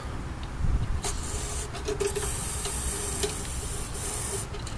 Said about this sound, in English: we'll spray up in there, and that'll prevent rust